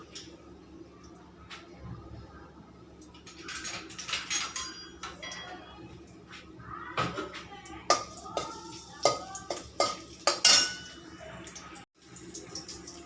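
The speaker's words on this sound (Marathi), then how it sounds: "मेथी याच्यात परतून घ्यायची मेथी टाकून परतून घ्यायची" Oil sizzles and crackles as fenugreek leaves are tossed with garlic in a kadhai, with metal utensils clinking and scraping against it in irregular bursts.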